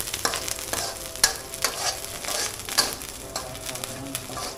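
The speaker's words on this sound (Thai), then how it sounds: "แล้วก็ผัดให้ทั่วครับเราก็จะผัดไปเรื่อยๆนะครับให้น้ำพริกหอมๆนะฮะ" Chu chee curry paste with pork is stir-fried over low heat, a soft continuous sizzle broken by repeated rhythmic scrapes and taps of a spatula against the pan.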